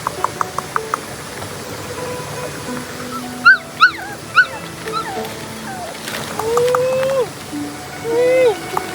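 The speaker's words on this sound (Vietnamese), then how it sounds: "Ai lại bỏ chó ở đây thế này?" An abandoned dog whimpers and yelps outdoors, with a few short sharp barks in the middle and drawn-out whining cries near the end, fairly close and clear over a busy background.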